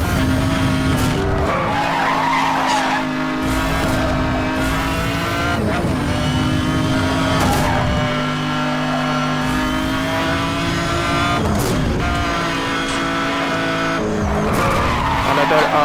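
A car drifts hard around corners in Need For Speed Hot Pursuit Remastered on PS5, with loud continuous tire squeal over a revving, accelerating engine, fairly loud and sustained throughout.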